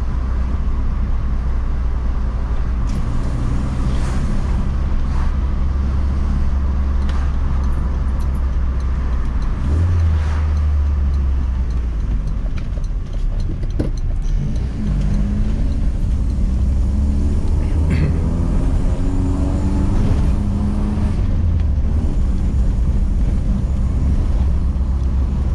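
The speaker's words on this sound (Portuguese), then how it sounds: "o som desse carburador, desse carro carburado também, muito legal" A carbureted 1979 VW Passat TS idles and revs, its engine note rising and falling in a steady, fairly close drone with no talking.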